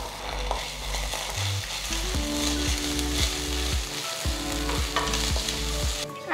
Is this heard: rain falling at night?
no